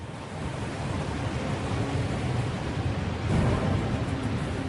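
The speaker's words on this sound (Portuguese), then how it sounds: "Moisés levantou seu cajado e o Mar Vermelho se dividiu" A continuous wash of rushing, surging water like heavy surf stands for the Red Sea parting, loud and broadband, with a fresh surge near the end and no voices.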